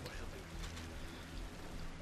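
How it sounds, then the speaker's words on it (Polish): Steady rain falls in Call of Duty Modern Warfare 3, a continuous soft hiss of drops that stays even and fairly quiet throughout, with no voices over it. "Bo deszcz pada, to tak."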